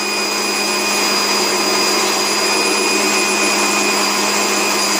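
A Silvercrest food processor shreds cheese, running loudly and steadily, a dense whirring motor roar with a constant high whine, no talking over it.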